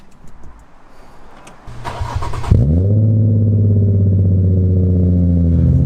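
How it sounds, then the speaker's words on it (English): A Nissan Skyline engine cranks briefly from cold, catches, and settles into a loud, steady idle with a low rumble that holds for several seconds. "Should we start the engine?"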